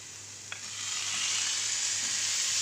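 Marinated chicken sizzling with onions in a hot pan, a steady close frying hiss that swells after a brief clatter and continues alone.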